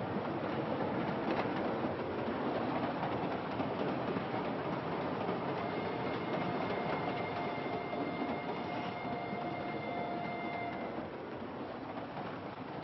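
Train rolling steadily along the rails with a constant loud rumble throughout, a sustained high metallic whine appearing midway, on a passenger train carrying police and travellers.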